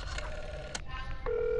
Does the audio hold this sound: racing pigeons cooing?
no